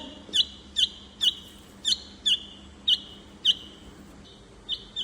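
Repeated high, sharp bulbul chick chirps, about ten evenly spaced calls over a soft background hum, fairly close and clear.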